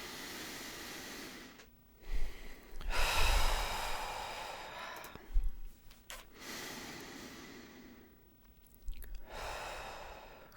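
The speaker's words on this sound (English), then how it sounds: "Let's take a nice deep breath together" Slow, deep breaths drawn in and let out alone in a quiet room, several full airy inhales and exhales separated by pauses, close and fairly soft.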